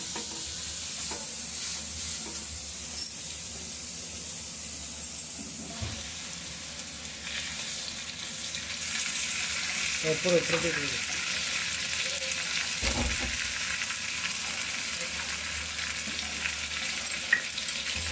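A leaf parcel of drumstick flowers and prawns roasts on a pan, giving a continuous soft sizzle and hiss. A few faint clinks and light scrapes come through, with no speech.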